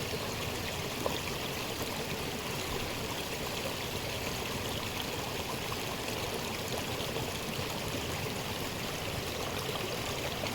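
A stream flows steadily with a constant bright rush and trickle, close by and unchanging throughout.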